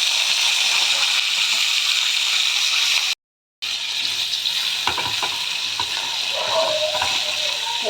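Turnips frying in hot oil in a pan, a loud dense sizzle that runs throughout, joined partway by scraping and clinking as the pieces are stirred, with a short break in the middle.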